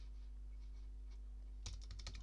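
Computer keyboard typing at a desk while building a web page: after a quiet background hum, a quick, close burst of several crisp keystrokes clatters in over the final second.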